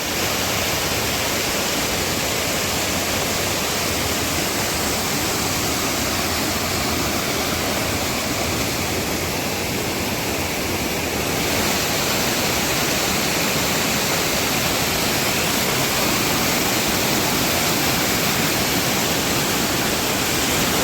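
Waterfalls pour down along a village trekking trail in Maharashtra, a steady, dense rushing roar that fills the whole scene without a break, loud and continuous.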